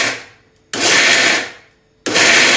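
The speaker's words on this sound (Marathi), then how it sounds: "हे जे आपण मिक्सर लावणार आहे एकदम हळूहळू फिरवायचं आहे" A mixer grinder grinding peanut chutney to a coarse texture whirs loudly in two short bursts, switched on and off, with a quiet pause between them.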